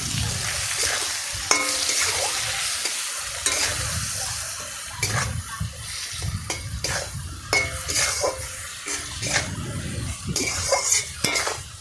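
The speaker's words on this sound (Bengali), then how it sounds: "দিয়ে এদিক ওদিক করে ভালো করে বেগুনটাকে ভাজলাম" Brinjal frying with turmeric and green chillies crackles in a pan as a spatula scrapes and clinks against the metal, irregular stirring strokes over a low bubbling sizzle, close and busy.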